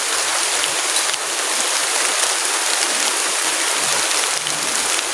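Heavy rain pours steadily near a large house in the mountains, a dense continuous hiss of drops hammering the ground with no pauses or voices.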